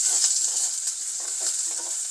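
Small onions, garlic, green chili and curry leaves are stir-fried in a pan, giving a steady close hiss of sizzling oil with soft scraping strokes of stirring throughout.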